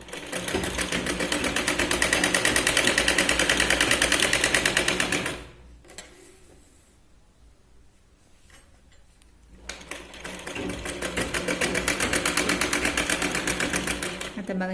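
A sewing machine stitches the seam of a katori blouse in rapid, steady bursts, pausing briefly in the middle before running again at the same even pace, close and loud.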